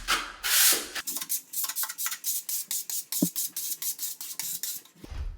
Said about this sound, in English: I'm just gonna spend some time now cleaning off as much extra grout as I can